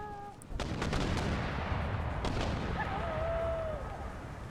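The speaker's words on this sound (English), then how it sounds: "Incoming mortar rounds." Mortar rounds fire in Empire Total War, a series of loud booming blasts with rumbling battlefield noise filling the scene and a whistling shell tone sliding down near the end.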